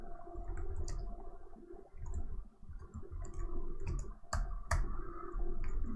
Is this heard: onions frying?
no